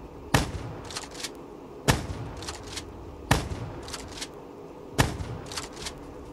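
Shotgun fire in Call of Duty Black Ops 3, four loud, evenly spaced blasts a little over a second apart, each followed by quieter mechanical clicks of cycling or reloading.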